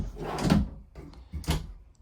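Bathroom drawers in a 2026 Keystone Sprinter 3900DBL fifth-wheel RV being opened and shut, two hollow sliding thumps about a second apart, close by.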